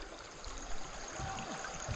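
River water flows at the junction of the Little River and the Snowy River, a soft, steady rushing and trickling murmur heard faintly and continuously with no other sounds.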